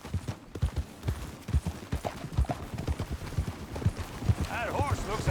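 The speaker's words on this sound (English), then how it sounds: "That horse looks like a fine traveling companion." Horse hooves clip-clop steadily in the Western video game Red Dead Redemption 2, a rhythmic series of close, moderately loud hoofbeats, with a voice speaking over them.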